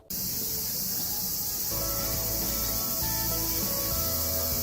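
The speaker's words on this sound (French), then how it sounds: "On entend les cigales depuis ce matin" A dense, continuous high buzzing of cicadas in Seoul fills the air at steady volume, with a faint low hum underneath.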